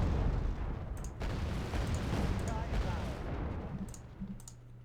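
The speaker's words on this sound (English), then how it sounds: "Now, we drop cluster munitions." Cluster munitions bursting in Wargame: Red Dragon, a dense rumbling roll of overlapping explosions and crackle that rolls on steadily, with faint clicks scattered over the top.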